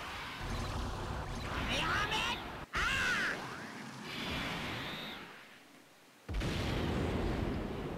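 Explosive burst from a Dokkan Battle summon animation, a loud sweeping rumble with bright crackling layers that cuts out abruptly, then returns at full volume over continuous game music and effects.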